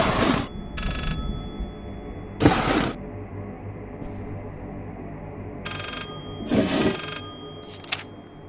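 An old telephone ringing in the horror game Layers of Fear, bright bursts of ringing repeated about three times with quiet gaps between, over a low background rumble.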